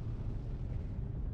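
Rumbling explosion of a despawning mech in MechWarrior Living Legends, a steady low boom that rolls on for over a second at moderate level with no voices.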